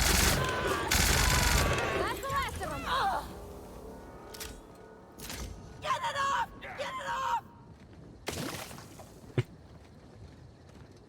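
Gunfire from a gun in The Outer Worlds video game: loud bursts of shots in separate clusters, with game sounds and vocal effects scattered between them.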